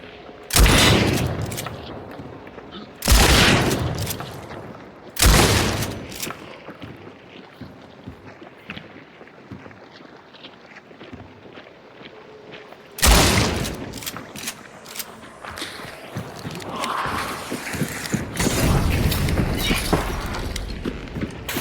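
Gunfire in a hunting-and-extermination video game, with loud sharp shots bursting out in a cluster near the start and another near the middle, separated by quieter stretches of ambient game noise and mechanical rattles.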